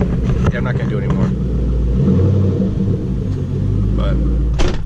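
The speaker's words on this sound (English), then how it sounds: "So let's give it a couple of revs." Pontiac Trans Am engine rumbling loudly and close, a sustained deep throb that swells slightly midway, with a person's voice briefly over it near the start and end.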